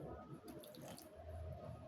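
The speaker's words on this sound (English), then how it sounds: "let's just add little warm water." Warm water poured from a tap or container into Nigerian bun dough, a steady close splashing stream of about two seconds with no talking.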